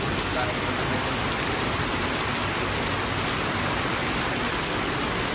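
Heavy rain pouring down outdoors, a dense, unbroken roar of drops that stays loud and even throughout.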